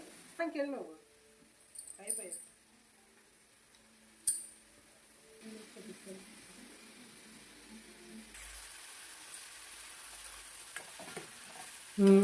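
Eggs frying in a pan while cooking chicken biryani: a soft, steady sizzle runs throughout with occasional scraping stir clicks near the start, and a person talks intermittently over it.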